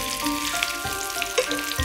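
Eggplant pieces pan-frying in hot oil give a steady, close sizzle with scattered crackles and small pops throughout, no voices over it.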